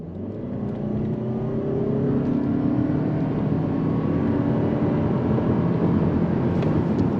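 2025 Toyota Camry XLE hybrid accelerating on throttle in sport mode, its engine note rising steadily in pitch as the car gains speed, loud and close with no talk.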